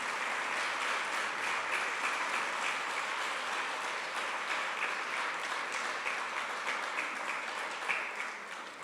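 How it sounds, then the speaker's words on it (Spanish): A church congregation applauds during a Spanish-language sermon, a sustained wash of many hands clapping, fairly distant and steady, easing off slightly near the end. "dele un aplauso al Señor Jesús"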